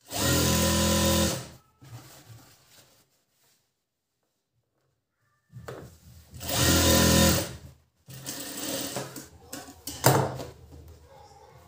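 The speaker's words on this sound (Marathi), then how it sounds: "तिथूनच आपल्याला शिलाई घ्यायची आहे." A sewing machine stitching a blouse along a marked fitting line, running in loud whirring bursts of a second or two, separated by pauses with quiet handling noises, close up.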